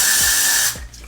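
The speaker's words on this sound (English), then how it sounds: "I'm gonna be using some Got2b spray. Spray your brush like that." A steady hiss of Got2b hairspray aerosol sprayed onto a brush runs close and loud for under a second, then cuts off abruptly, leaving faint handling noise.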